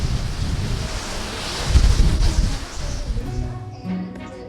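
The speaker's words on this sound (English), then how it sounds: "it was just replaced then by even more intense wind, some of the strongest winds of the night" Strong hurricane wind during Hurricane Milton in Orlando, gusting and buffeting the microphone in surging waves of rushing noise, swelling near the middle before easing.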